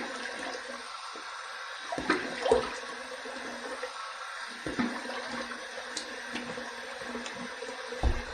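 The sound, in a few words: cold water rinse running from the tap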